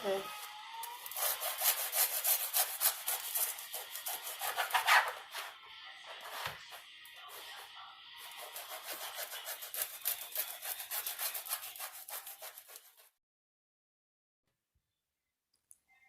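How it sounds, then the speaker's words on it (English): A knife saws through crusty day-old French bread in steady, scratchy back-and-forth strokes, close and fairly loud, with a brief pause midway before the rasping resumes and then stops into silence. "Now let's slice the bread."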